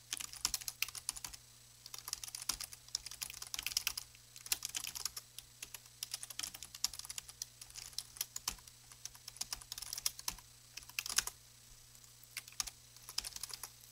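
Steady computer-keyboard typing while writing Python code for a CSV file, dense quick clicks in irregular bursts throughout, close and fairly quiet over a low constant hum.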